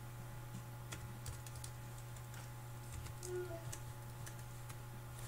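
Faint, quiet keystrokes on a computer keyboard tap in an irregular patter over a low steady hum, with no one speaking.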